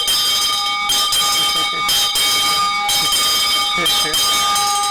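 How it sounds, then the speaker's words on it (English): A bright bell rings repeatedly in sharp, sustained bursts, loud and close, with a steady metallic tone ringing between strikes. "Yes, you ring the bell."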